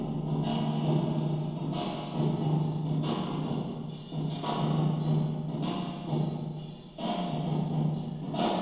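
Dense, washy Airwindows Dual Matrix reverb at full sustain, with struck sounds smearing into a long plate-like tail. Steady, fairly quiet wash with recurring soft hits throughout.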